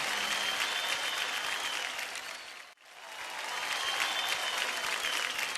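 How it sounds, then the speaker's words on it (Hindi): Studio audience applause on a televised Indian singing competition stage, loud and sustained, briefly fading to near silence midway before swelling back into full clapping. "तालियां हो जाए।"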